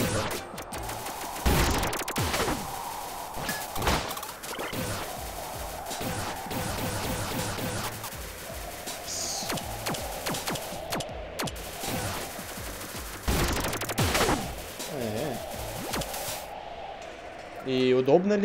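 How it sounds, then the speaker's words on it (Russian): Gunfire from a weapon shooting powerful, piercing shots in the side-scrolling game Iconoclasts, heard as repeated sharp bursts and rapid volleys over game music, with someone talking throughout. "Выстреливает мощными снарядами, проникающие сквозь противников"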